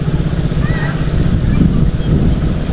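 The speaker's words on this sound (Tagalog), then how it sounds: "Buti na, maingay yung makina." A steady low boat engine drone runs throughout, mixed with wind buffeting and water noise, as a motorboat travels on a river.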